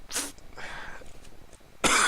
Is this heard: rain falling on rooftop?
no